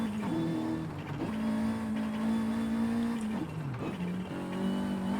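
A car engine in Forza Horizon 5 held under a feathered throttle, a steady droning tone that dips and rises as revs shift, continuous and fairly close with no talking.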